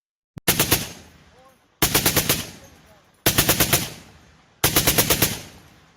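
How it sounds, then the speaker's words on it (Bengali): Four sharp bursts of automatic gunfire, each a rapid string of about five or six shots, separated by short pauses and evenly spaced, in a sound effect. "পিকনিকে ব্যস্ত পর্যটকদের ওপর নামে গুলির ঝড়"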